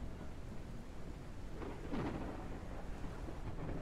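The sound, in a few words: rain and thunder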